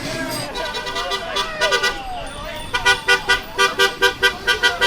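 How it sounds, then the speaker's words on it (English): A car horn toots several times, first a few scattered beeps, then a rapid string of short, loud honks, over passing road traffic. "There seem to be supportive honks"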